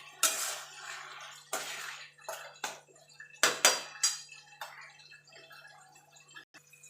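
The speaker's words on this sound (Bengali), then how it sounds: "এবার আমি কচুর শাকটা যতক্ষণ জল না শুকিয়ে যাচ্ছে ততক্ষণ আমি রান্না করে নেব।" Taro leaves with chickpeas cook in a pan over a high flame, heard as sharp metallic clinks and scrapes of a utensil against the pan, spaced out irregularly over a faint steady hum.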